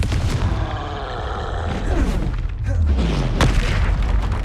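Fiery spell blasts and booming impacts from combat in the video game Hogwarts Legacy, a dense run of heavy explosive thuds and crackling bursts with a few grunts mixed in.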